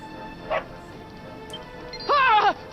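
A dog in the Dragon Quest XI game barks twice, a short yip followed by a longer, louder whining bark-howl, close and clear over a quiet background.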